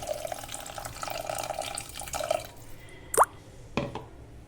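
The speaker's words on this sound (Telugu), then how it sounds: "ఒక పెద్ద గ్లాస్ వాటర్ తీసుకొని ఈ విధంగా పోసానండి" Water runs and splashes into a pot of lentils with tamarind, followed by a couple of sharp metallic clinks and plops; fairly close, with no talking.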